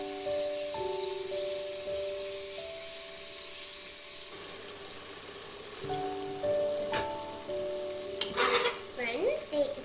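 Spices hit hot oil for daal maash and sizzle, a soft crackling fry that builds with stirring and scraping toward the end, close by, with a faint steady tone in the background.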